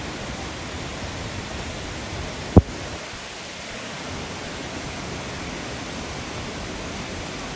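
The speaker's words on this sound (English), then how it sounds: "Look at that rain." Heavy rain pours down on New Zealand's West Coast as a steady, dense hiss with no pause, broken once by a single sharp knock partway through, with no voices.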